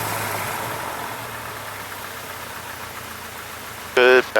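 A Cessna 152 piston engine idles steadily during a ground check, a constant close rumble and drone, with a short burst of radio chatter near the end.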